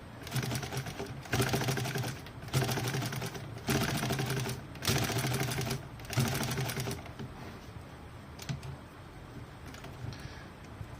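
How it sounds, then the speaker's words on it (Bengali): A sewing machine whose lower stitch puckers the fabric runs in five loud, rapid stitching bursts with short pauses between them, followed by quieter handling clicks. "আমি আগে মেশিনটা চালিয়ে দেখাই আপনাদের।"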